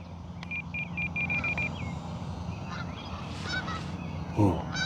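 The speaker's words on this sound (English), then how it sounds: "Ooh, geese. They want to battle." Several geese honk at a distance in a few scattered calls over an outdoor background hum, with one louder, closer honk near the end; no one speaks.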